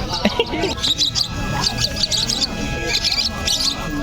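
Small pet birds chirp and tweet in quick bursts amid a busy crowd at a pet market in Malabon, with people talking nearby throughout.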